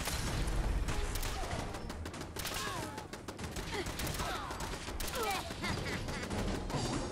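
Steady bursts of gunfire in the video game Fallout 4, rapid repeated shots and booms forming a dense ongoing firefight at moderate loudness, with voices talking faintly in the mix.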